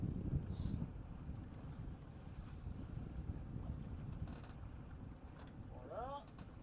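A sailboat's motor hums low and steady near Port-Cros, France, beneath wind buffeting the microphone, with a brief squeaky sound near the end.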